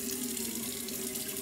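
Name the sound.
water running from a tap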